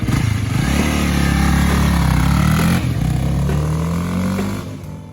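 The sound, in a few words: 2022 Honda Rebel motorcycle engine riding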